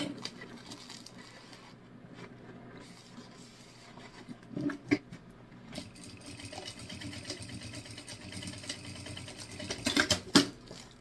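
A sewing machine backstitches a strap onto a thermal bottle holder, running in a steady mechanical whir at moderate volume with small clicks and bumps partway through and near the end; no one talks.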